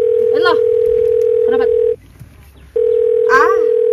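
A telephone ringback tone sounds as a call connects, a steady electronic tone cut by a brief pause, with a person talking over it at close range.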